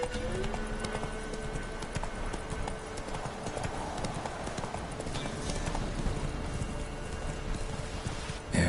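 Horse hooves clip-clop in a steady walking rhythm while riding in a PS4 video game, close and clear against faint ambient background, with no talking.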